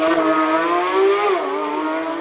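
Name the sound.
Porsche GT3 RS race car launching off the start line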